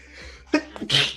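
One sneeze, a sharp intake followed by a loud burst, is heard close up and alone.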